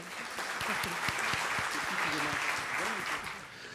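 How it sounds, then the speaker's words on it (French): Audience clapping at an oceanography and arts-and-sciences talk in Nice, a dense sustained round of applause with a voice speaking faintly underneath, easing off near the end. "Donc on peut applaudir Jean-Marc."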